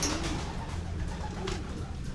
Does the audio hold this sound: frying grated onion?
no